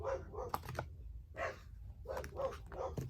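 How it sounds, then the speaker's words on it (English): A dog barks repeatedly at a distance, in short bursts with gaps between them, faint and muffled as if from outside. "Sorry about my dog barking out there."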